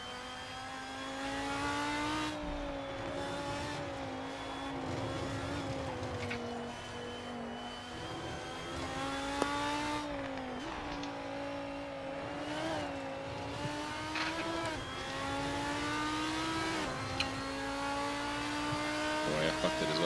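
Racing car engines in the Assetto Corsa driving game on the Nordschleife drone loudly and steadily throughout, revving and shifting pitch with occasional tire squeal, while a voice talks over them.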